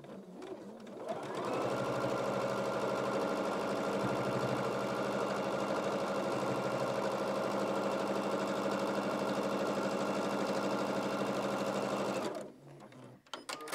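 A sewing machine runs continuously for about ten seconds, stitching the final seam of a handmade baby quilt, with a steady, even mechanical whir close by that starts abruptly and stops near the end.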